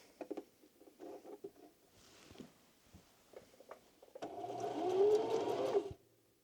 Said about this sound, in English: it is actually sewing this time